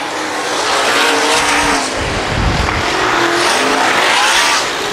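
Race cars roar around the Valley Speedway oval on the final lap of the last race of the 2011 season, a loud, continuous engine drone with a brief surge of a car passing close by midway.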